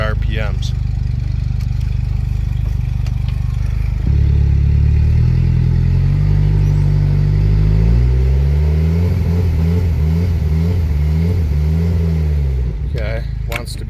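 A Mercury 115HP outboard boat engine, whose voltage regulator and rectifier are in question, idles loudly up close, then revs repeatedly in rising and falling surges around 2400 RPM, with brief clatter at both ends.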